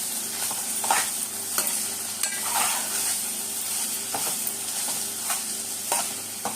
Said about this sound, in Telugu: తర్వాత ముందుగా రెడీ చేసి పెట్టుకున్న ఎండుమిర్చి, జీలకర్ర, వెల్లుల్లి పొడి వేసుకోవాలి. వేసుకుని కొంచెం సేపు వేగనివ్వాలి.